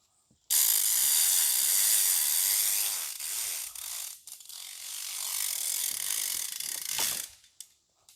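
Rope puller ratcheting as it tightens on a cable during tree trimming and shed demolition: a loud, steady rasping ratchet run for several seconds, a short pause, then more ratcheting that fades and ends.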